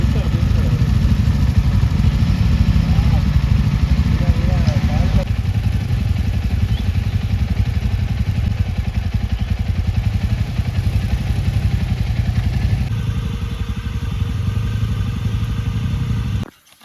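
Royal Enfield Himalayan motorcycle engine running steadily on a rainy ride near Balimela Dam in Odisha, a continuous low rumble with clattering mechanical texture throughout, cutting off at the end, with some voices over it.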